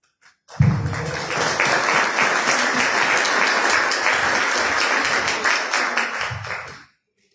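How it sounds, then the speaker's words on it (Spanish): A seated audience at a talk on corruption and violence breaks into loud, dense applause that swells in quickly, holds steady for several seconds, then fades out, with a few isolated taps at the very start. "un fuerte aplauso, Carol"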